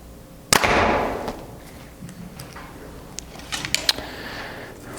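A single sharp, loud compound bow shot, from a Mathews Phase 4 or Hoyt VTM 31 being compared, cracks out near the start and decays quickly, followed by faint ticks and low background noise.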